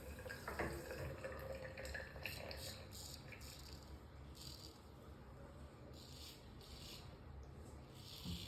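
Running water from a tap splashes steadily over a straight razor as it is rinsed, with intermittent rubbing and light metallic rattles, faint and close.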